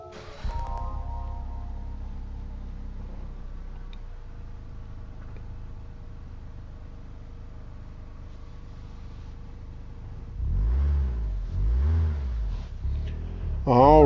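A Suzuki Swift Sport Gr.4 race car in Gran Turismo 7 fires up after a quiet stretch, its engine catching with a heavy low rumble and a few throaty revs, loud and close.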